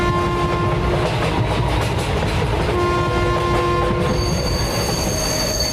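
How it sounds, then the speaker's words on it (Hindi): A cartoon train pulls into a station and stops, with loud, piercing wheel squeals and rail clatter running continuously. Sustained tonal shrieks shift in pitch as it slows. "ट्रेन स्टेशन पर आकर रुकती है।"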